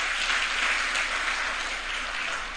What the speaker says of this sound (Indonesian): Tepuk tangan dulu buat anak Papua